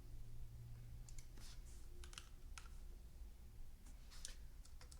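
Light clicks from a computer mouse and keyboard in a quiet room, a scattering of crisp, faint taps spread across a few seconds over a steady low hum, with no voice.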